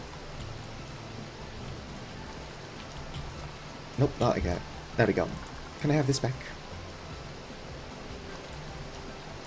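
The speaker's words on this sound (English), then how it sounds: "Is it still hailing? It is." Hail patters steadily on a roof outside, a soft constant rattling wash in the background while a person talks briefly over it.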